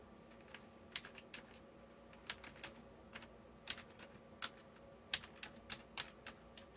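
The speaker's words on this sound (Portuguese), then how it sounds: "Estou digitando aqui." Keyboard typing during a live chat stream, a string of sharp separate key clicks in irregular bursts, close and fairly quiet over a low steady background hum.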